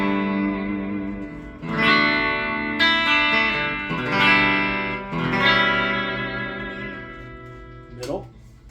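A cherry red 1967 Fender Coronado II with tremolo, played on its bridge pickup through a Roland JC120 amp with a little reverb and no chorus, ringing out several clean strummed chords that sustain and fade in turn.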